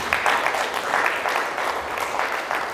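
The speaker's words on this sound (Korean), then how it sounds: "뜨거운 박수 한번 칩시다" An audience claps at a lecture hall talk, a sustained ripple of many hands beating in a fairly even rhythm for a few seconds, with no voices over it.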